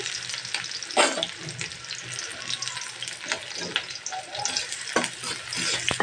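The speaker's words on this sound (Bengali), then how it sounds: "এখন পেঁয়াজের কুচিটা দিয়ে দিচ্ছি।" Chopped onion hits hot oil in a wok with a steady, busy sizzle and crackle, punctuated by a few sharp stirring clanks, fairly quiet and close with no talk.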